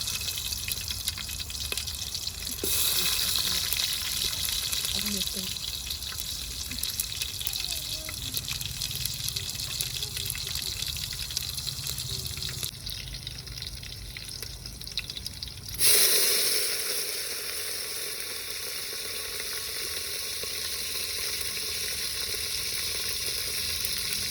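Curry leaves and onions go into hot oil in a pan for village-style drumstick sambar, hissing and sizzling continuously with a sharp burst partway through, then settling into a steady, bright frying hiss.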